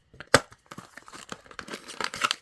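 Thin plastic bag packaging of a DJI O4 Air Unit being torn open by hand: a sharp rip followed by a run of close crinkling and rustling, with no speech.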